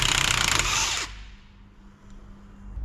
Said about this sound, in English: using an 18mm socket, you should be able to gun off the nut